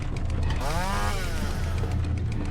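A chainsaw revs briefly in a Roblox horror game modeled on Manhunt. The motor whines up and back down once, close and fairly loud, over a low rumbling background.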